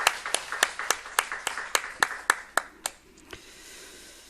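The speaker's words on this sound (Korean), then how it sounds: "우리 박수로 한번 축복하겠습니다." Church congregation clapping to welcome a visiting couple during a Sunday morning service: about a dozen sharp, evenly spaced claps in a steady rhythm, close and fairly loud, then a last isolated clap and quiet room tone.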